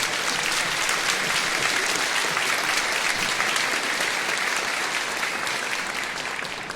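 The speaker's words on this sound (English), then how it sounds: "nice round of applause for all the folks at St. Norbert for putting this on for us" A community band concert audience gives a sustained, full round of applause, a dense continuous patter of many hands that tapers slightly at the very end.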